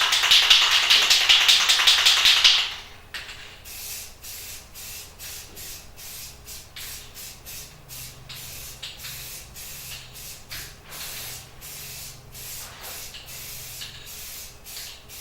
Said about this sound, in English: I'm going to spray paint them with black.